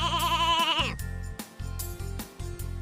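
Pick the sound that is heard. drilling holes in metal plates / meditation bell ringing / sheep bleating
sheep bleating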